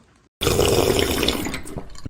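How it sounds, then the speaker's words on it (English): Motor oil poured from a quart bottle into an engine's fill hole through a filter, a sudden start after brief quiet, then a steady close glugging liquid stream that tapers off near the end. "it's time to dump 7 quarts of oil in"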